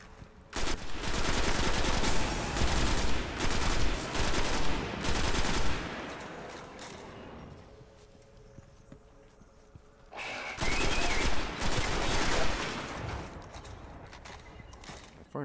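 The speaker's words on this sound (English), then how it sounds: "For an auto rifle, it's a punch." Sustained bursts of automatic rifle fire from the Mars level of Destiny, loud and dense for several seconds, then a lull, then another long rapid burst; no talking.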